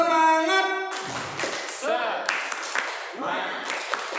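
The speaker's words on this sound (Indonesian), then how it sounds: "Tepuk semangat." Indonesian schoolchildren in a coding lesson perform a rhythmic spirit clap in a classroom, quick patterned claps in short bursts with voices chanting along between them.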